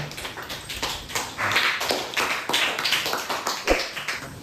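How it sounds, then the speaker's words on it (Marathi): Students in a classroom clap for a classmate, a dense, continuous round of applause lasting a few seconds with a sharp, louder clap near the end. "देवयानीसाठी टाळ्या वाजा एकदा"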